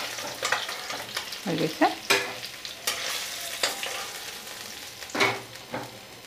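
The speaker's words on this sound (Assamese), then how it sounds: "এতিয়া এইখিনি কাঢ়ি থ'ম আৰু ইয়াতে ভাঙন মাছখিনি ফ্ৰাই কৰিম।" Local bhangan fish fries in oil with a soft, continuous sizzle, broken by intermittent scraping and clattering stirs of a utensil in the pan and a few brief spoken words.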